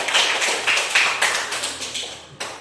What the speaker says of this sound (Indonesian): Tepuk tangan untuk Hairin.